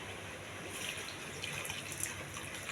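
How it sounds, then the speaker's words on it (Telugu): A glass of water poured into a pan of millet upma cooking with tomato and green chilli, a quiet, steady trickling and splashing of liquid heard alone at low level. "ఒక గ్లాసు వాటర్ అండి."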